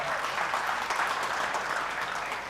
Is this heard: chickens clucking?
no